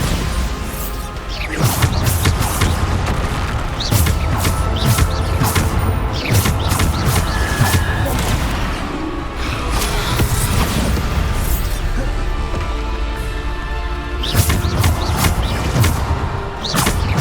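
Bombarda explosion spells cast in the video game Hogwarts Legacy, bursting with booms and crashes amid a dense, continuous game soundscape of blasts, thuds and whooshes.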